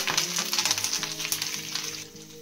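Curry leaves dropped into hot oil in a pan give a steady, close sizzling crackle that continues throughout, with light stirring noises underneath.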